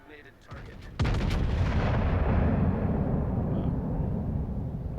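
Heavy main guns of a German battleship in World of Warships fire in a single massive salvo, a deep booming blast that rolls into a long, loud rumbling tail.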